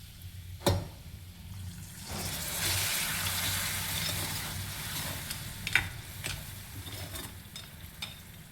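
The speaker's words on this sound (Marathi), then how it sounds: "आता यात थोडं पाणी टाकायचं." Water is poured into masala frying in a pan for Nagpuri saoji vadi vange, giving a sudden rising hiss and bubbling sizzle that lasts a few seconds, with a couple of sharp utensil clinks around it, close by.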